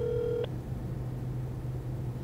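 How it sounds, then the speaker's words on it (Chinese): A mobile phone places a call, with a short electronic tone that cuts off quickly, followed by a low steady hum and background noise, close and quiet. "正在打给明德"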